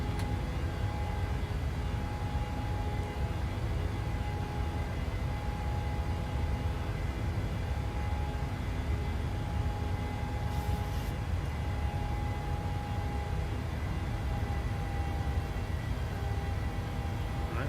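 Steady broadband jet engine roar of a PMDG Boeing 737-700 in a flight simulator game, building on the takeoff roll with a constant hum throughout, loud and continuous with no voices.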